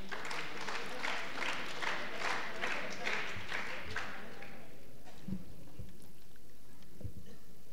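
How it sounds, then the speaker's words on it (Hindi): An audience claps in a gathering, a fairly soft, dense patter of applause lasting several seconds before fading, followed by a few scattered knocks and quiet room noise. "उनके लिए भी एक बार तालियां"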